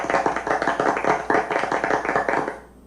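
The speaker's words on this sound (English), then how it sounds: "Give it up a round of applause." An audience at a conference applauds in a dense, steady burst of clapping from many hands. The clapping holds for about two and a half seconds and then stops abruptly.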